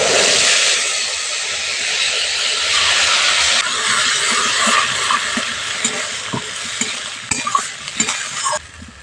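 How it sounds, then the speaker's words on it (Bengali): Tomato, ginger and green chili paste fries in hot oil for matar paneer, giving a loud, broad sizzling hiss with spoon scrapes and stirring clatter that settle and ease toward the end. "টমেটো, আদা, কাঁচা লঙ্কাটা ভালো করে একটুখানি কষিয়ে নেব মশলাটা"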